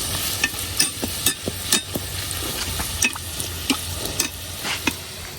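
Spinach kachori deep-frying in hot oil while oil is splashed over the tops, a close, bubbling sizzle dotted with quick irregular splashes and spoon clicks throughout.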